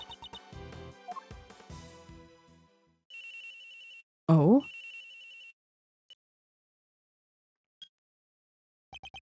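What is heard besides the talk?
phone ringing in the video game Ace Attorney Investigations II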